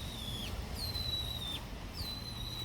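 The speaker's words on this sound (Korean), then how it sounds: "이렇게 아침에 듣는 이 자연의 새소리도 굉장히 좋습니다" Morning birdsong outdoors in nature during a barefoot walk: a few clear, thin whistled bird calls, each a sustained falling note, repeated three times over a steady low rumble of background noise.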